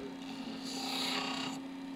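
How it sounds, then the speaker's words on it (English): A bowl gouge cuts wood on a lathe while turning a small snowman, a steady rasping scrape over the lathe's constant hum that swells for about a second and then eases back. "I use the bowl gouge here so I get a nice round neck."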